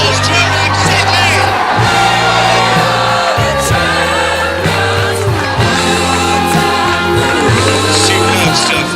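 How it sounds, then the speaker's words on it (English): Supporters cheer, whoop and shout in a big stadium crowd after the 2007 FA Vase final at the new Wembley. The roar is loud and continuous over ringing music, with an announcer's voice audible on top. "Give a big round of applause to City!"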